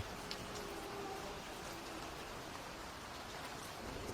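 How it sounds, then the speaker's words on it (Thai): Rain falling steadily on a surface, a faint, even, broadband patter with no distinct drops standing out, quiet and continuous with no voices. "สายฝนโปรยลงมาขณะที่พวกมันกำลังยะเนิบเนิบลงไปจากถนน"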